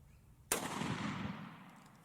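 A single loud gunshot goes off with a sharp crack and a long, rolling outdoor echo that slowly fades. The round is either a hollow point or a full metal jacket.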